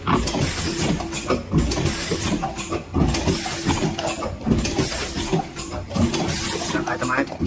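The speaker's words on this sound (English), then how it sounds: "You can put your ink here, and it can automatic print." An automatic logo printing machine prints plastic cups, giving a steady mechanical hum and hiss with rhythmic clunks repeating about once a second, while someone talks over it.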